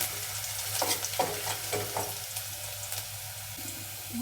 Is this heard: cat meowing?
no